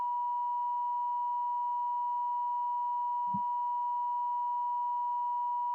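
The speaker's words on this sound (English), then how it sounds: "What that beeping noise is." An unexplained electronic beep sounds during a courtroom trial broadcast as one steady, unbroken tone that holds at a constant level from start to finish, with a single faint low thump partway through.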